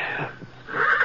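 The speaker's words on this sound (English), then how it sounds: "One of the horses down the corral was sure upset about something." A horse neighs in a corral as a radio drama sound effect, a short agitated whinny with breathy, wheezing texture, fairly close and alone with no talk.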